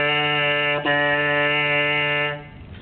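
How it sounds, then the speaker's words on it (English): A trombone mouthpiece buzzed alone, one steady bright tone with a single brief tongue interruption near the start, then it fades out. "I'm going to buzz number 11 first because I want the students to get used to buzzing the mouthpiece"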